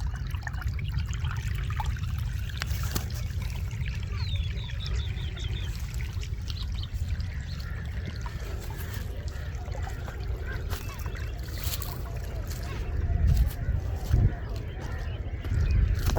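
Steady trickling and gurgling of water flowing in an irrigation channel carrying dry leaves, continuous and fairly close, with a soft rushing background throughout.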